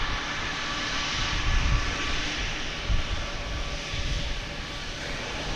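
A United airliner's jet engines roar at DFW Airport, a broad, steady rumble with a hissing high end that holds at even loudness throughout, with no voices.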